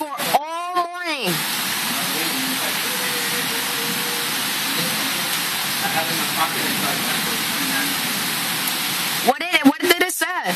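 Heavy rain pouring during a New York City thunderstorm, a dense, steady hiss throughout, with voices talking briefly at the start and end.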